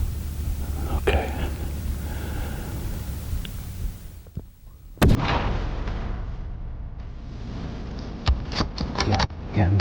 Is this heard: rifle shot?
yes